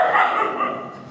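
Dogs barking in a loud, close, drawn-out burst while fighting a white cat.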